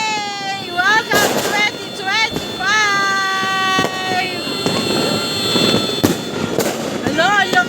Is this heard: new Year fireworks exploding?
yes